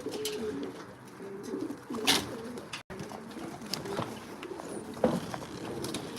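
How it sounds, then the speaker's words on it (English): Pigeons coo softly in a loft, low throaty calls repeating under faint rustling, a brief wing flap, and a distant voice. "some of them are outside playing with the doves"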